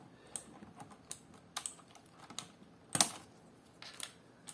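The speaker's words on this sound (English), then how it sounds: "After a while, you will be able to just remove the keys by hand." Plastic keycaps being pulled off a Razer BlackWidow mechanical keyboard, producing sparse, sharp clicks and snaps at irregular intervals, close and fairly quiet, with no talking.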